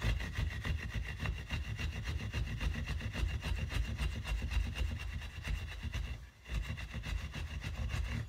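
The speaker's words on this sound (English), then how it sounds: "I just hit the frets with the steel wool and I can see that finish, that varnish coming right off" Steel wool rubs varnish off the frets of a cigar box guitar, giving a steady, close, scratchy abrasive texture that continues almost without a break. A brief dip falls near the end, and no one talks.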